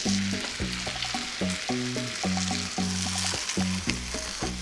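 Eggs cooking in a pan with chorizo, corn and jalapeno, giving a steady sizzle and frying hiss under a rhythmic musical backing, with light stirring, no talk.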